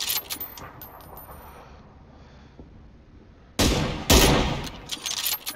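A scoped rifle fires two loud, sharp reports in quick succession outdoors, followed by a brief echoing tail after a quieter stretch of ambient noise.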